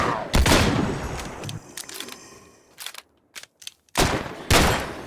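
Gunfire from the Scorched Guns 2 mod in Minecraft, several sharp close shots separated by short gaps, with small clicks and mechanical handling sounds in the quieter stretches between them.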